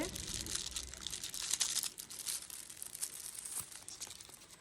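A Meesho parcel being opened, its plastic packaging crinkling and tearing in quiet, continuous rustles with a few sharper crackles, close by and fairly soft throughout.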